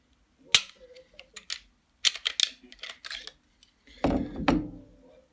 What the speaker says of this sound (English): I'll break this gun down.